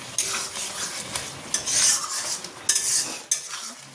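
Spices stirred and frying in a pan alongside lentil fritters, with a steady sizzle and repeated scraping of a utensil against the pan, close and clear with no talk.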